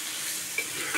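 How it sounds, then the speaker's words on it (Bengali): Ground coriander and cumin fry in a pan with oil, making a brief, even sizzle with a light stirring scrape. "একটু ধনিয়ার গুঁড়া আর জিরার গুঁড়া দিয়ে ভালো করে ভেজে আমি নামাই ফেলবো"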